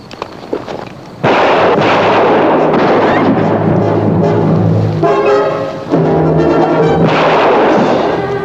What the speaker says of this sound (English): Sorry I had to shoot you.